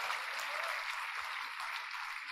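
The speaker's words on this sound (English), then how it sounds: "I think each one of you deserve a round of applause to yourself" A convocation audience claps together in a dense, steady wash of applause that lasts the whole stretch without a break, and no voices are heard over it.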